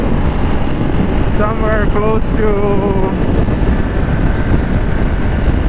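Steady, heavy wind buffeting roars across a rider on a naked Ducati Streetfighter V2 motorcycle with no wind protection, a broad constant rush with the engine hum beneath as someone talks over it.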